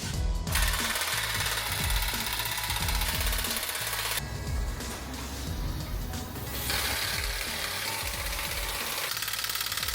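Power tool rattling in rapid impact bursts while tightening exhaust clamps on a 3.6L Jeep cat-back exhaust, loud and close, with broadband hiss throughout and no talk.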